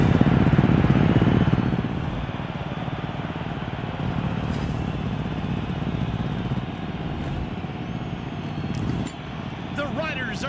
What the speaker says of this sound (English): The roar of the engines is deafening.